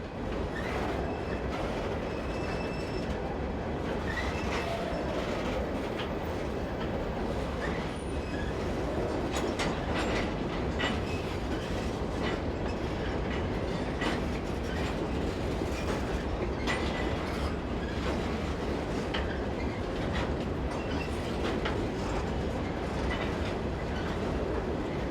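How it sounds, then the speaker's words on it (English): A CSX freight train of empty rock hoppers, led by a pair of AC-44CW locomotives on the Cumberland Subdivision in Maryland, rolls past in a long, loud, continuous rumble with rhythmic clickety-clack and occasional wheel squeal, no voices. "At the head of this train of empty rock hoppers was a pair of AC-44CW locos"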